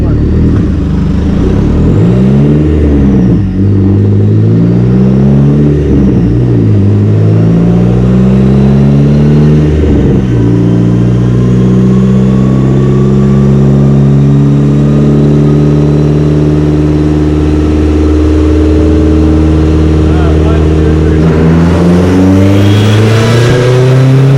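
A stage 4 car engine on dry tires revs hard under throttle, its pitch sweeping up and down through repeated loud pulls before settling into a steady high drone, with a final surge near the end.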